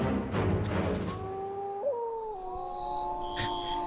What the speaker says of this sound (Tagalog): Hindi na maganda yung tunog ng mga aso